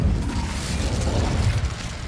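An Incendio fire spell is cast in Hogwarts Legacy, a rumbling whooshing burst of flame with a heavy low roar that stays loud and dense for the whole moment.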